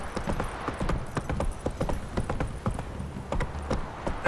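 Hooves of Geralt's horse Roach in The Witcher 3 trot at a steady clip-clop, close and prominent over outdoor game ambience, with no talking.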